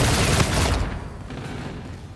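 Gunfire in the Call of Duty: Infinite Warfare video game: a loud, dense burst of rapid shots that cuts off after under a second, leaving a fading rumbling tail.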